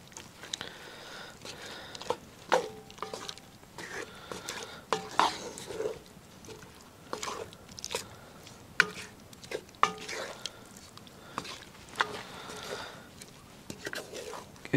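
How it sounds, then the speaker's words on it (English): Salt pork is stirred into braising beef short ribs in a pot, giving soft scraping and intermittent utensil clinks against the pan beneath quiet, low speech. "Get that stirred in."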